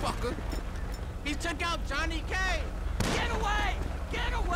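Gunfire in Grand Theft Auto 5 with first-person shooting, loud sharp reports and booming blasts packed over several seconds, mixed with in-game character voices talking throughout.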